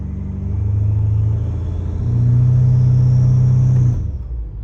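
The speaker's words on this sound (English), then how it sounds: "I'm gonna do a little baby launch." A 650 hp BMW M5 Competition launches from a standstill, its engine droning loud and close, holding a rumbling tone, stepping up in pitch, then dropping away as it cuts off.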